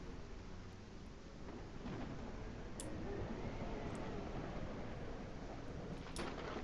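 A video-game thunderstorm in Spirit of the North 2, with steady rain and a wide low rumble beneath and a few brief crackling strikes, sustained and fairly quiet without speech.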